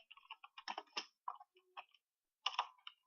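Bursts of quick keyboard typing on a computer, crisp close clicks in short uneven clusters separated by pauses, quiet and alone without voices.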